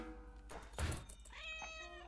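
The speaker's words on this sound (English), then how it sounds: "Meow, says cat." A cat meows a couple of times alongside a dull thunk, fairly close and moderately loud with no talking.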